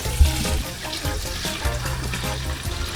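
Tap water running steadily into a cooking pot for boiling instant noodles, a continuous close splashing stream with a brief clunk near the start and no speech.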